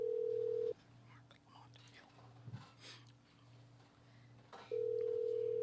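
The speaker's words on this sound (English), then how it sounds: "So I'm going to make this phone call and we'll see if this guy's really my friend, if he answers the phone." A FaceTime call rings out as two loud, steady electronic ring tones bracketing a pause, with faint rustling and whispering in between.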